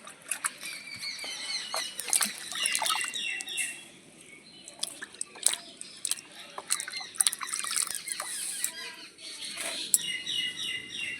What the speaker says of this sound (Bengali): এখানে আমি গামলায় জল নিয়ে নিয়েছি আমগুলো একটু ধুয়ে নেবো